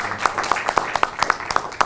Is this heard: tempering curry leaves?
no